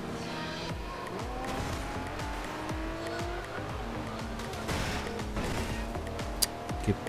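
A car in the racing game Forza Horizon 2 slides and skids, its tires squealing in repeated high whines over a loud, continuous engine roar with rapid rattling transients and a few sharp knocks near the end.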